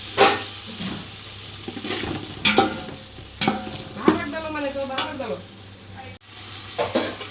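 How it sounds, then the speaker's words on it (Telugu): Tomato pieces sizzle in hot oil with ginger-garlic paste for mutton biryani, with repeated scraping stirs of a spoon against the pan breaking through the steady frying crackle. "అల్లం వెల్లుల్లి పేస్ట్ వేగాక ఇప్పుడు టమాటా ముక్కలు వేసుకోవాలి. వేసుకుని కలపాలి."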